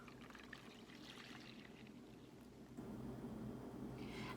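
Milk pours into a bowl holding vanilla pudding mix, a steady liquid stream that grows fuller and louder partway through, with no talking.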